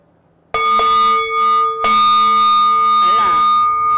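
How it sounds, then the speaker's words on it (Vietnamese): Buddhist ritual bell struck three times in a demonstration of temple ritual instruments, each strike a bright, sustained metallic ring with rich overtones, the later tones overlapping and decaying slowly, loud and close. "khi mà chúng ta tụng kinh có dấu hiệu 3 tiếng chuông thì chúng ta đánh thế này"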